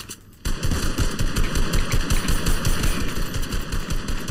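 After a brief quiet moment, rapid automatic gunfire from a Fortnite Reload ranked match erupts and keeps hammering at close range in a steady, dense stream of shots with little let-up.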